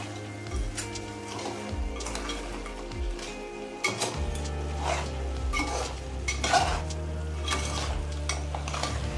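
Crab and prawn curry frying in a pan, with a continuous loud sizzle and repeated scraping stirs of a utensil against the pan, close and steady throughout.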